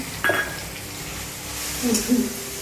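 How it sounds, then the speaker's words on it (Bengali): Spices frying with ginger, garlic, tomato and onion in a pan, a steady close sizzle with a few utensil clinks against the pan. "একটু মশলা ভেজে নিচ্ছি।"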